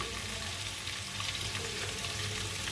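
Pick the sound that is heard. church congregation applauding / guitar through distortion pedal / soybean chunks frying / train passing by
soybean chunks frying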